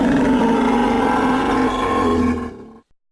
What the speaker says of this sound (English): Its dying roar of surprise and pain echoes through the chamber.